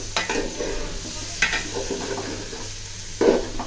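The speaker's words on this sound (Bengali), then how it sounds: "তো পোলাও চালটা যদি ভালো মতো ভেজে না হয় তাহলে পোলাও বিরিয়ানিটা ঝরঝরা থাকে, এই জন্য ভেজে নিচ্ছি ভালো মতো" Pulao rice for chicken biryani is fried and stirred in a pan, giving a soft sizzle with scraping strokes of the spoon and a few louder clatters near the end.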